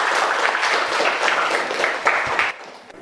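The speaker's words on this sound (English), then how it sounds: "Give applause to Sumita." Classroom applause for a student's good answer, a dense wash of many hands clapping steadily at close range before cutting off sharply near the end.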